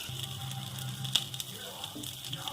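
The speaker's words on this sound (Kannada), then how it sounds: "ಈಗ ಸ್ವಲ್ಪ ಎಣ್ಣೆ ಕಾಯ್ದಿದೆ, ಅದಕ್ಕೇನೆ ನಾನು 1 ಸ್ಪೂನ್ ಶುಂಠಿ ಬೆಳ್ಳುಳ್ಳಿ ಪೇಸ್ಟ್ ಹಾಕೋತೀನಿ" Ginger garlic paste sizzling in hot oil in a pan for noodles, a steady soft hiss with faint pops and a small clatter, moderately quiet and close.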